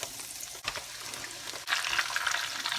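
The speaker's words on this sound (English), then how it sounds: "once you have them breaded up, you're just gonna fry them up. Right here I have bacon grease that I saved." Breaded venison liver frying in saved bacon grease, a fairly quiet crackling sizzle that swells louder after a brief dip, with light bubbling and spatter, no talking.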